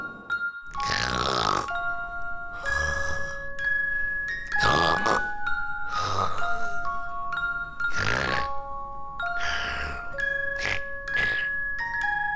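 A child imitating a father's snoring, repeated rhythmic rasping snorts at steady intervals, close by, with bright chiming tones ringing over them.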